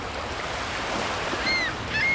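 Sea waves wash toward the shore where a floating log drifts, a steady close rush of surf with wind over the microphone and faint high gull-like calls near the end.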